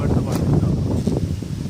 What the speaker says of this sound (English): this place is very windy